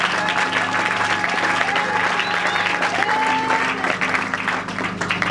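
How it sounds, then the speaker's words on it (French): A church congregation at a youth evangelical gathering breaks into loud, sustained applause with scattered cheers. The clapping fills the whole stretch evenly, without pause. "Acclamons pour la parole de Dieu."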